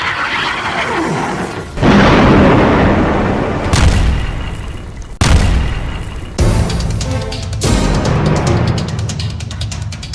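Heavy booms and blasts from bombs exploding during an Israeli bombardment of Gaza, several loud broadband bursts in sequence with rumbling aftermath and dense noise between them.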